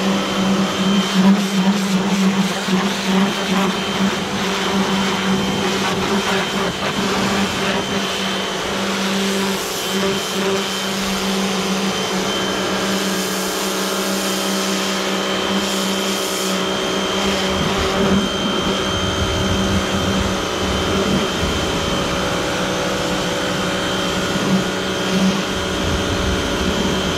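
A 180-bar high-pressure washer runs continuously while washing a car, giving a loud, steady motorized hiss and whine with slight fluctuations as the spray moves across the bodywork.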